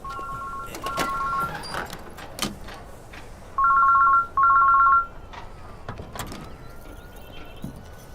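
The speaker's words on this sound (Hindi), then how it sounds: "घंटी जा रही है भाई।" A mobile phone ringtone rings in a room in two bursts of electronic two-tone trills, first briefly, then louder and more sustained around the middle, with faint movement and clatter around it.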